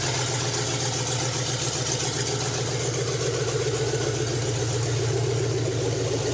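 A Ford Explorer 4.6 V8 engine with the exhaust cans cut off idles steadily with a low, even throbbing rumble, close and continuous throughout.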